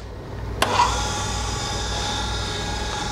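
A Reid Rollerway 6x18 precision hand feed surface grinder on 220-volt power starts its grinding spindle with a sharp click, then settles into a steady, close motor whine and hum.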